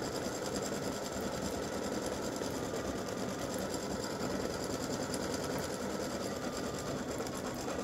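An embroidery sewing machine stitches freestanding lace for a breast cancer awareness ribbon, a steady, fast mechanical whirring hum that continues evenly throughout, close and without talk.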